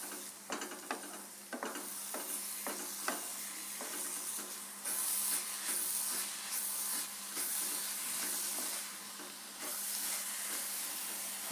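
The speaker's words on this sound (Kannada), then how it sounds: "ಮೊಟ್ಟೆನ ಈ ರೀತಿ ಮೀಡಿಯಮ್ ಫ್ಲೇಮ್ ಇಟ್ಕೊಂಡು ಈ ರೀತಿ ಫ್ರೈ ಮಾಡ್ಕೊಳ್ಳಿ" Egg and shredded cabbage frying in a pan over medium flame, a steady close sizzle and hiss with intermittent stirring scrapes, no talking.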